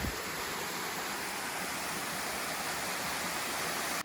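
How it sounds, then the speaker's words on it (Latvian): Small waterfall spilling over reddish rocks, a steady, close, full rush of falling water with no pauses and no voices. "Atnācām līdz šitādam ūdenskritumiņam."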